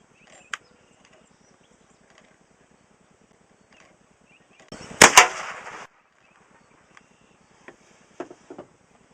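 Marlin Model 60 rifle fires a loud shot or two close together outdoors, the first round stovepiping; otherwise the surroundings are quiet with faint ticks and small sounds.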